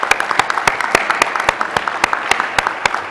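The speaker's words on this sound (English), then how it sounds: "let's give a big round of applause to our technical community and Randy for their work." Audience applause for the technical community at the AIAA SPACE 2013 conference, a steady clatter of many hands clapping with sharp individual claps standing out, fairly close and sustained throughout.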